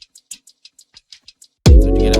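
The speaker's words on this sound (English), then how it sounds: "Then I had this shaker, this shaker vibe." A shaker loop for an Afro swing beat plays soft, crisp, evenly spaced shakes alone, then a loud booming bass and full beat crash in near the end.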